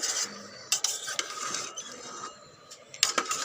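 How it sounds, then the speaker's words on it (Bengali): Rohu fish curry with potato and vegetable stems being stirred in a rice cooker, a steady scraping, clattering mechanical sound with sharp metallic knocks against the pot, fairly faint and close, with no talking. "ভালো করে নাড়তে হবে এটা যত ভালো করে নাড়বো কষাবো তরকারি কিন্তু ততই মজা হবে"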